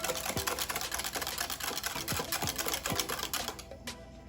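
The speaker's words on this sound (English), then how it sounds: "now what you do is you take your whisk and you get the quick mix" Whisk rattling against a bowl while quick-mixing juice ingredients, fast clicky taps in a steady stream, close and fairly quiet, ending with a brief clink.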